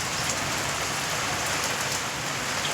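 Steady heavy rain pours down at a farmhouse with a leaking roof, a dense close hiss of drops on surfaces that holds constant throughout with no voices.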